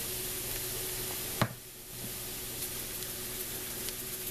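Chopped onions sweat over low heat in a pan on a stove, giving a steady, soft broadband sizzle with a low hum beneath. A single sharp knock lands partway through, followed by a brief quieter stretch before the gentle frying hiss settles back in, with no talking.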